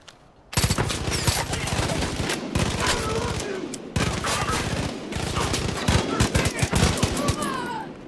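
Dense automatic gunfire in Far Cry 5 rattles almost nonstop in rapid bursts, loud and close, with shouting voices mixed in among the shots.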